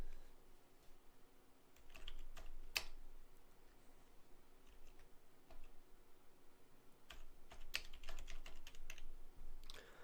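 Code being typed on a computer keyboard for a Java tutorial, quiet close key clatter in uneven bursts with short pauses, no talk over it.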